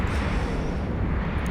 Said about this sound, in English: That's beautiful explosion,